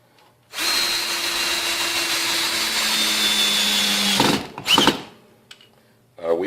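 Ryobi 18V One+ cordless drill driver sinking deck screws into a 4-inch solid block of wood: a loud steady motor whine for several seconds, ending abruptly, followed by brief clatter and a voice starting to talk.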